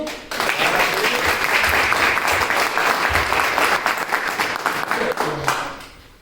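A live audience at a motivational talk bursts into strong, continuous applause, the clapping staying loud and dense before gradually thinning toward the end.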